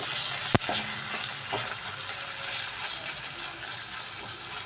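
Onion, ginger and garlic masala fries in hot oil, giving a steady, soft sizzle. Near the start there is one sharp clack from a utensil, then a few light stirring scrapes.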